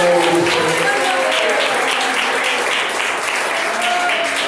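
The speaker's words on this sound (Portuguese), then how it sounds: "Bate palmas e glorifica" A church congregation claps loudly and continuously during a Portuguese-language revival service, a thick, sustained wash of applause with faint tonal music or voices threaded beneath.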